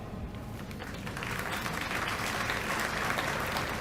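Audience applause at a military academy passing out parade, a steady, broad wash of clapping from a large outdoor crowd, moderately distant and building slightly in level across the clip.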